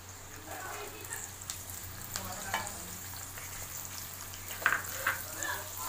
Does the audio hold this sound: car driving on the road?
no